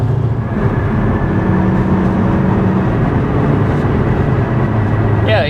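Inside a 2024 Alfa Romeo Tonale plug-in hybrid with 285 horsepower, accelerating brings a loud, steady low drone of engine and road noise that holds constant throughout.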